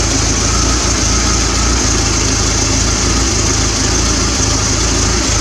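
A 1980 Triumph TR7 engine idles loudly and steadily nearby with a rough, pulsing rumble, its pitch rising slightly as it is revved.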